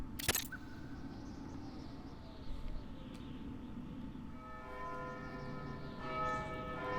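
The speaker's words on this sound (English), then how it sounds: "Ah, bells again." Church bells ring in the Vagrant Story video game, with a sharp strike at the start followed by resonant tolling tones that ring out and layer together over a dim, rumbling background.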